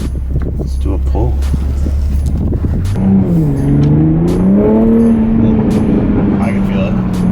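A Toyota GR Supra in sport mode with traction control off revs up on a dyno, a low idle giving way to a loud, rising engine note that climbs steadily and holds, with voices talking over it.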